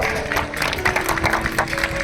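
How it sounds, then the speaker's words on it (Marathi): A crowd claps together at a felicitation during a devotional gathering at Wakhari, giving a brisk burst of applause over steady background music. "जोरात एकदा टाळी वाजवा"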